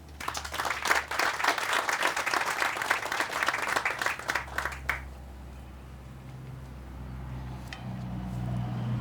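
An outdoor audience at a meat company's sustainable resource facility groundbreaking claps in a steady, moderately loud burst of applause lasting several seconds, then fades to quiet ambience.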